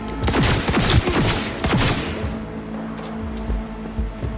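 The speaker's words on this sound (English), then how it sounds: "Firing at close range!" Close-range gunfire in Cyberpunk 2077, a rapid, loud fusillade of shots cracking out at first and then easing into a steadier, lower clatter of continued fire.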